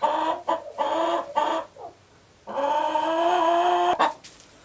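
Chickens cluck and squawk close by at a farmhouse in drawn-out, nasal calls, one bird complaining loudly over a quiet background.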